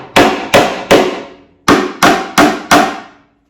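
Nails are hammered into a plywood swarm trap: seven sharp, close metallic strikes, three, a short pause, then four more, each ringing briefly, with no voices.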